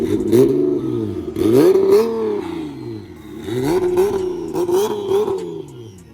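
An upgraded-turbo Nissan Z launches down a drag strip at a Nissan Z event, its engine loudly revving up in repeated surges as it shifts through gears.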